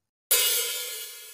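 A single open hi-hat strike on a drum kit, a bright sizzling wash that rings and slowly fades, close and fairly quiet, heard alone.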